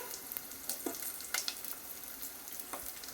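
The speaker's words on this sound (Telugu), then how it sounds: "కలుపుకున్న తర్వాత ఆనియన్ అయితే కొంచెం గోల్డ్ కలర్ ఫ్రై కావాలి." Onions and green chillies frying in oil for Maggi noodles, a soft, even sizzle close by with a few light stirring clicks and scrapes scattered through.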